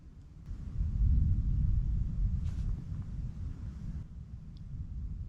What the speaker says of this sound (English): Except for that thunder.